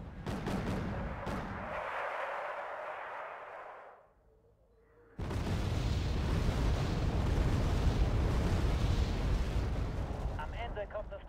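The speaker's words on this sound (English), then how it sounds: "Seem to be a lot of random bombardment around there." Artillery bombardment rumbles in a long, dense roar of blasts that cuts out briefly and then returns just as heavy, with a voice speaking over the din.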